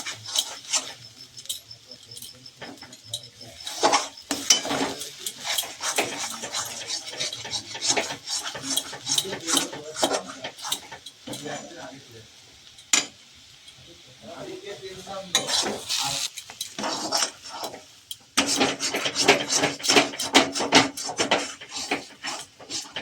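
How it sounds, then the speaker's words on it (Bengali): A spatula scrapes and clatters around a wok as ginger paste is stirred for a broccoli kachori filling, with irregular metallic scraping strokes over a soft sizzle, pausing briefly midway before resuming more densely. "আদা দেওয়া আছে, এরকম হতেই পারে, তো আপনি নাড়তেই থাকবেন, নাড়তে নাড়তে"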